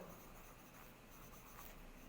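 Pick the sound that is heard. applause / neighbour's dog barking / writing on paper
writing on paper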